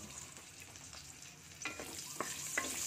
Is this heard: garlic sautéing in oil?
yes